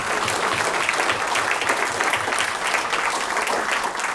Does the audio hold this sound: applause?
yes